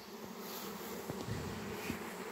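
Honeybee swarm arriving at a row of empty hives, a dense, steady buzzing of many bees, fairly faint and close, with no talking.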